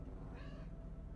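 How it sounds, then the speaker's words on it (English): A cat gives a single faint meow, lasting about a third of a second, over a steady low background hum with no talking. "If you can hear that, that is my cat, Terry."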